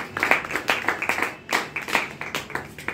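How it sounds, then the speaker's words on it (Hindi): An audience clapping loudly at a business marketing event, a brisk, uneven burst of many hands that holds strong throughout. "ताली बजाओ जोरदार।"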